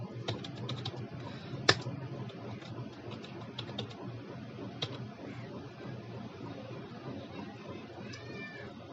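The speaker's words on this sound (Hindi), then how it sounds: "तो यहाँ पे हम टाइप कर लेते हैं" Computer keyboard typed on softly while entering data in Excel 2016, scattered faint key clicks in short bursts over a quiet room hiss.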